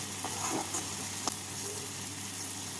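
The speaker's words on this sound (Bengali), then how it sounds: "মশলার সাথে কিমাটাকে ভেজে নিচ্ছি" Mutton keema fries with spice masala in a pan, giving a continuous low hiss and sizzle with faint soft stirring scrapes and one brief tap, with no voices.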